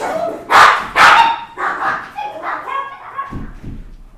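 Several dogs bark loudly close by in a home, two strong barks followed by a run of softer yips and whimpers, mixed with someone speaking French.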